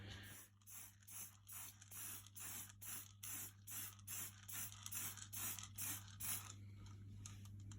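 Short repeated bursts of aerosol spray paint in gloss red are applied to a Britains model rotary muck spreader, about a dozen hisses in a steady rhythm over a low constant hum, close and alone with no talk.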